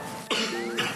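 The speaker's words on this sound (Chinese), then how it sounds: "现在就还是一直咳嗽，" A person coughs twice, sharp and close, each a short raspy burst separated by a brief pause, from a dry irritated throat in winter.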